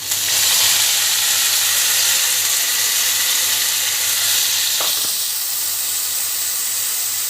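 Vegetables hit a hot tempering of oil and turmeric for spinach dal, setting off a loud, steady frying hiss that holds throughout, with a single brief click near the middle.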